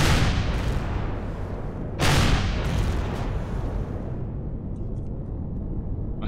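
Enemy turret fire in Empyrion Galactic Survival, heavy booming bursts that crash in loudly at the start and again a couple of seconds later, then trail off into a rumbling decay.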